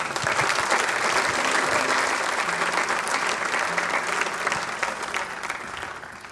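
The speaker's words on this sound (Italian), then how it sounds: "Vi chiedo quindi un applauso per ricordarla." Sustained applause from an audience at the Premio Navicella Sardegna 2024 ceremony, given in memory of a woman. The dense, steady clapping fills the room and eases slightly toward the end, with a faint murmur beneath.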